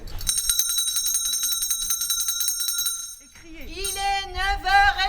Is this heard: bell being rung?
yes